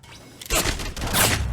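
Gunfire from the mobile battle royale game Apex Legends Mobile: a couple of loud, dense bursts of shots after a quieter opening, close and harsh, with no talk over them.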